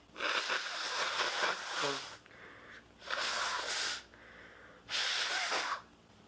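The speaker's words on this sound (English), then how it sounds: "I have to blow my nose real quick." Three forceful nose blows, each a harsh breathy honk lasting about a second, separated by short pauses, close to the microphone.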